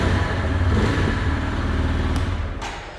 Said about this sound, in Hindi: अभी के लिए बाइक कोल्ड स्टार्ट पे